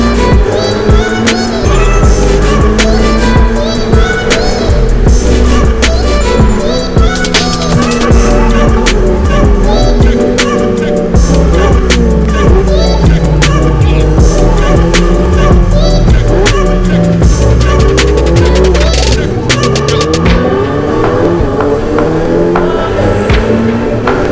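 Ferrari race car engines at the start of a race in Montreal, a loud, continuous snarl whose pitch climbs and falls as the revs rise, with several cars overlapping.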